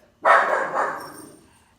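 A dog lets out one loud, drawn-out bark close by, and a second bark begins just as the sound cuts off.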